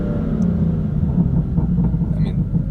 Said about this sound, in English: So yeah, like right now I'm downshifting.